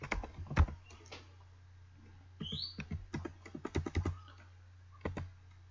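Quiet, close typing on a computer keyboard while coding in Python: irregular bursts of crisp key clicks separated by short pauses, heard alone.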